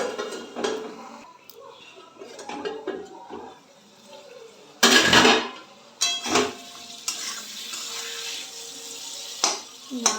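A lid comes off a cooking pot of potatoes with a sharp metallic clatter, then bursts of bubbling and light scraping sound nearby, mixed with quieter kitchen clinks.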